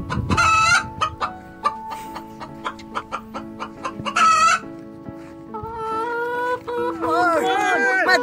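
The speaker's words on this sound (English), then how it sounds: "My rooster is so strong." A rooster crows loudly, and fowl cluck in a cockfighting scene from a school drama about the Bali Strait, with repeated crows and a busy run of clucking; people talk and shout over the birds throughout.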